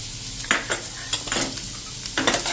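Vegetables for a paneer tikka roll are sautéed in a pan over medium-to-full flame after salt and pepper go in. A spatula scrapes and stirs in short, close bursts over a steady low sizzle, with no voices.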